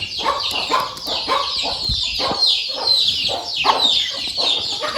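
A mother hen and her chicks cluck steadily up close, the chicks' thin peeps overlapping the hen's repeated calls on a poultry farm, with no voices.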